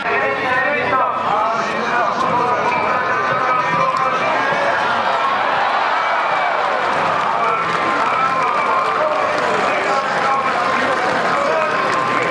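Rodeo crowd applauding and cheering after a bronc ride, a dense, continuous roar of clapping, shouts and babble filling the arena throughout, with an announcer's voice on the loudspeaker mixed in.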